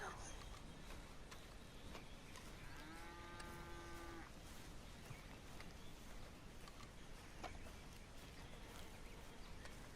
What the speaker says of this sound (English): I need to go take care of the cow.